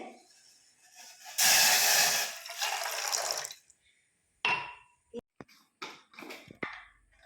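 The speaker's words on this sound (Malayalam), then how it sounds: "ഒരു ഗ്ലാസ് വെള്ളം വയ്ക്കുന്നുണ്ട്" Water pours into a glass in a loud, rushing burst for about two seconds, then tapers off, followed by a few sharp clinks and short knocks.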